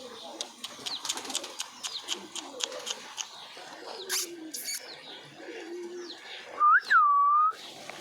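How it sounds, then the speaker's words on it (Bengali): Pigeons at a loft cooing and fluttering while eating from a hand, soft close coos and rustles, with a person calling to the birds and a clear whistle near the end. "দেখো পায়রাগুলো সব এখানে খাবার খাচ্ছে, আমার হাতে খাবার খাচ্ছে পায়রাগুলো।"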